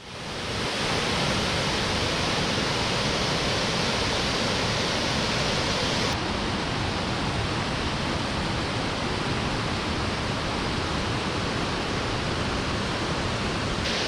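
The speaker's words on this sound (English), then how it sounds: "It's this nice waterfall, kind of runs down, and you can see it through these two big boulders there on either side." A waterfall pours between two big boulders at a river's edge in Valley Falls State Park, West Virginia, on a rainy day. It makes a constant, dense, loud rush of water with no let-up and no talking.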